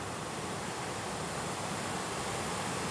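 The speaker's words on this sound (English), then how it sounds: "And wow, that is a beautiful waterfall." Paulina Falls, a two-part waterfall near a lake, roars as a steady, dense broadband rush that holds even and unbroken throughout, close and alone with no voices over it.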